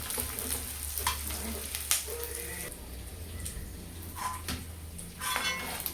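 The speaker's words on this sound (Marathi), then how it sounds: "अशा प्रकारे हे डिंक जे आहे ते मी तेलामध्ये तळून घेणार आहे" Edible gum (dink) frying in oil gives a continuous crackling sizzle, with occasional utensil scrapes and clinks against the pan.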